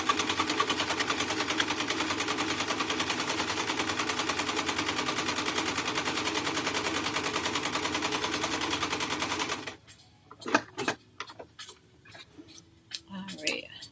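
A sewing machine running a zigzag stitch down the side seam of an adaptive cropped cardigan, a steady rapid mechanical chatter for nearly ten seconds that stops abruptly, followed by handling clicks and a voice.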